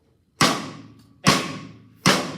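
Maple drum kit struck in a practice pattern: three loud, close, separate hits with booming attacks and ringing decays, evenly spaced about a second apart.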